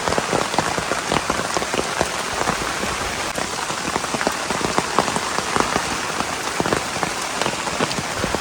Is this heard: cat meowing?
no